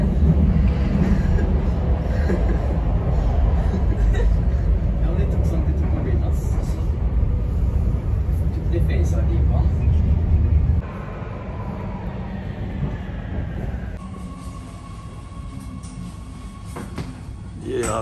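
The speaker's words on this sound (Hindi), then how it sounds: "और ये ट्रेन।" A train at a terminal station in Oslo gives a loud, steady low rumble that drops to a lighter hum partway through, while a person speaks over it.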